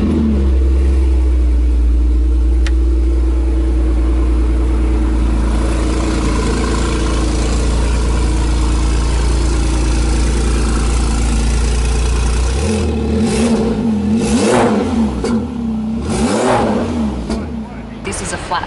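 The flat-six engine of an 800-horsepower Fenyr hypercar idles loudly with a deep steady rumble, then is revved in several sharp rising bursts near the end.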